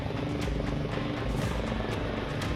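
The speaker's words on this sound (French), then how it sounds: "L'hélicoptère avait ensuite pour mission de récupérer chaque big bag un par un" A helicopter lifting big bags at a viaduct construction site drones steadily overhead, its rotor thumping in a continuous low rumble with no voices.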